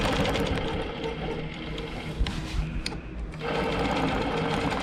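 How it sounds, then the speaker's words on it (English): A longarm quilting machine stitches in the ditch around a quilt block, guided along a straight ruler. Its steady, close motor whir and rapid needle chatter run throughout, with a brief dip in the middle before resuming. "the first thing I'm going to do is stitch in the ditch"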